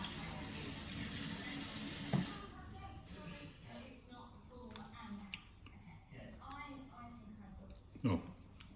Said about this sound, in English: Wash my spoon.